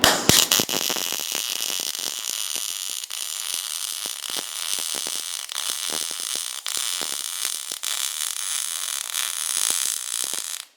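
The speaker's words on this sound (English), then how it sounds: "And now we got all our broke pieces welded." Welding on broken pieces of a boat gives a continuous, bright sizzling crackle with scattered sharp pops. It stays close and fairly loud throughout, with no voices.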